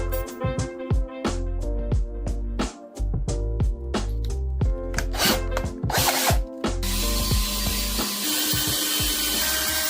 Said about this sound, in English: then drill some holes for him to stand on